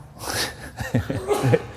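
A sudden, sharp sneeze bursts out close by during a meditation session, followed moments later by a second nasal burst with a short breathy catch in between.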